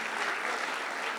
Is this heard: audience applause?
yes